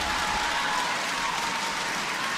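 Steady applause from a table tennis audience at a men's team quarterfinal between China and Korea, a dense, even patter of clapping throughout, moderately distant and moderately quiet.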